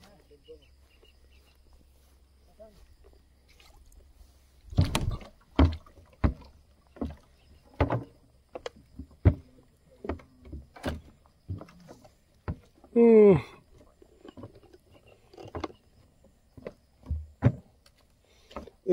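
Rowboats bob beside a floating dock on the water at Kuldiha Sanctuary. They give irregular hollow wooden knocks and thuds, close and fairly sharp, against a quiet background, with one short vocal burst partway through.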